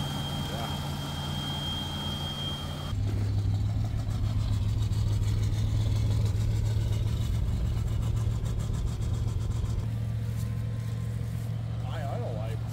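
An old abandoned Jeep Chief engine running at a steady high idle, a close continuous drone that picks up slightly in pitch a few seconds in, while people talk over it.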